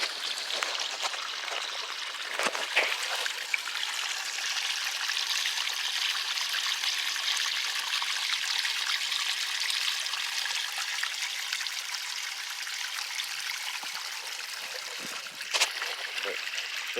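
Water runs along a freshly dug driveway trench before backfilling, making a steady, continuous trickling and babbling flow with an occasional small splash.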